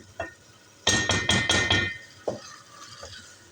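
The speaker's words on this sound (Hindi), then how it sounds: "इसको ज़रा फ्राई करती हूँ मसाले के अंदर चिकन को" Chicken frying in masala in a home kitchen, with a burst of rapid scraping and stirring strokes against the pan over a soft background sizzle, followed by a few scattered clanks.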